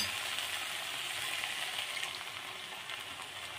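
Boiled tomatoes and spices sizzle steadily in a hot frying pan for dum aloo, a dense, even hiss holding at moderate loudness throughout with no pauses and no voices.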